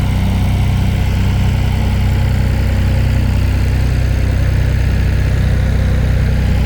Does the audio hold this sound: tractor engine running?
yes